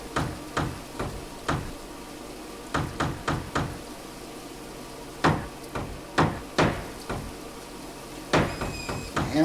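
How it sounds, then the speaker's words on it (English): Quiet hammering strikes in irregular clusters, a dozen or so sharp knocks on wood spaced with short pauses, each blow soft and close with a brief thud. "hammering as quietly as I can"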